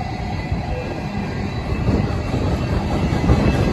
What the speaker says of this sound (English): First train I filmed since about 2 weeks ago.